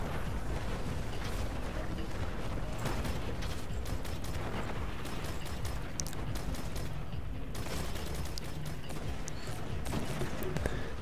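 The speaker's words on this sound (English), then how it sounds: "Now we each like get some rockets and snipers into him." Dense, continuous battle noise from rockets and sniper rifles fired at an ogre in the video game Destiny, with booming blasts and crackling impacts packed closely together at a steady loud level.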